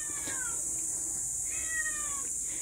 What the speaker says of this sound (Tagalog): Bakit nag-iyak-iyak ka, pusa ka?